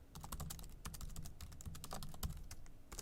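Typing on a computer keyboard while entering a database query, with quick irregular key clicks, close and fairly quiet, no speech.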